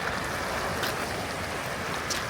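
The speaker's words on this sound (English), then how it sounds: "You'll hear the waves crashing." Ocean waves crash and wash steadily against a rocky shore along a coastal beach walk, a continuous broadband roar with a few brighter splashes and no talking.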